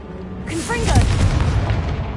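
A Confringo blast spell cast in a Harry Potter video game sets off a loud, close booming burst with brief whooshing, chirping magical tones and a rumbling tail.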